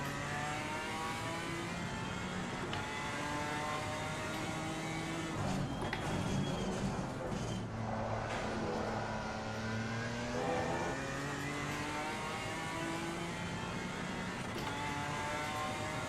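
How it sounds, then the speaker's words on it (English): A BMW GT4 race car in the Assetto Corsa Competizione racing game revs hard at Oulton Park, its buzzy, high-pitched engine note climbing through gear changes continuously and loudly, with occasional faint talk over it. "I'm driving the BMW GT4, yes, the Bimmer. That's why it sounds so like a beehive on ecstasy."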